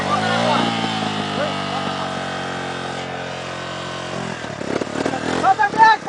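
A motorcycle engine runs close by with a steady droning hum. It falls away near the end into rougher bursts of noise, and voices talk over it.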